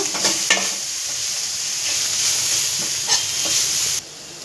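Potatoes and chopped coriander sizzle and steam in a hot pan while cooking for aloo bonda, a steady loud hiss with a few stirring scrapes, close by with no speech.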